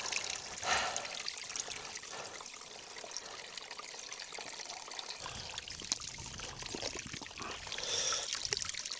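Water trickles and splashes steadily from a mountain spring on a ridge hike, a soft continuous flow close by with no voices.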